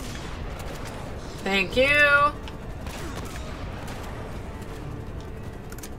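A short burst of gunfire from enemies in the video game Uncharted: Drake's Fortune on PS4 cuts through the game's sound bed alongside a brief ringing hit effect, with someone briefly talking.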